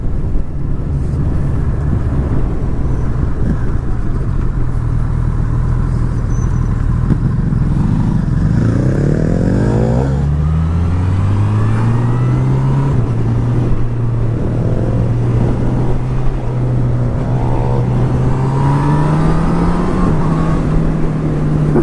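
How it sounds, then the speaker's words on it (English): Ducati Hypermotard 950S motorcycle engine heard while riding on a road, a loud continuous engine drone rising and falling through gear changes and acceleration under heavy wind noise, with no talking. "That sounds good, the Hyper."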